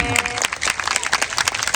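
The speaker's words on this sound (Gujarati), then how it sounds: "જબરજસ્ત તાળીઓના ગડગડાટથી પછી મારે બોલવું છે" Crowd applause at a live folk event in Moti Marad, a dense burst of clapping from many hands, loud and continuous, with some voices mixed in.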